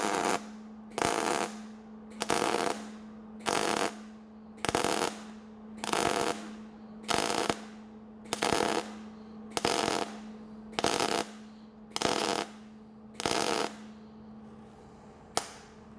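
Roughly a dozen short bursts of MIG welding at about 200 amps, each a loud crackling buzz lasting a second or so, separated by brief pauses in a steady, even rhythm, close up with no talk.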